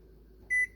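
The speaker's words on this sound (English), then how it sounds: "And set my timer" A single electronic beep from a kitchen timer, a steady tone lasting under a fifth of a second against quiet stovetop background noise.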